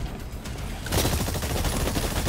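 Rapid gunfire from the video game Exoprimal, a dense, loud burst of shots that kicks in just under a second and keeps up steadily to the end over a muffled game backdrop.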